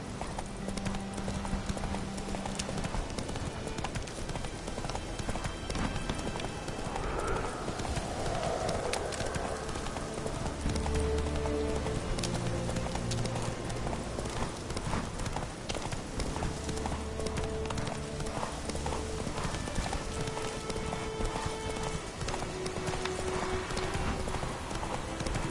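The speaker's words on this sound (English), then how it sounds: "Run, Roach" Horse galloping in the video game Witcher 3, with rapid rhythmic hoofbeats running throughout over game music and ambience, and an occasional whinny.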